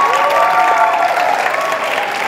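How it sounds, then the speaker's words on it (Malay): Audience applause at a university leadership colloquium opening ceremony, a dense, steady clapping from a large crowd filling the hall continuously, with some voices faintly mixed in. "Profesor Madya Dr. Mazuki Yasin, kita berikan tepukan."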